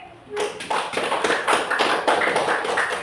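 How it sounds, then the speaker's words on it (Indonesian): An audience in a classroom claps in quick, dense, close applause for about two and a half seconds after a quiet start. "berikan aplaus dulu untuk adik Alif"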